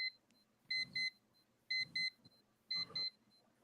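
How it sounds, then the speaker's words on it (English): A Casio quartz watch alarm sounds in three groups of double electronic beeps, moderately quiet, with faint rustling noise and soft tones between the bursts. "quartz alarm too. It's not mechanical."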